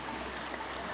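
River water flowing at a crossing point, a steady close rush and gurgle with no break over a brief moment.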